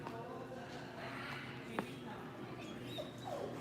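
A puppy whimpers and yips faintly a few times over a steady background murmur of a busy indoor crowd, with people talking nearby.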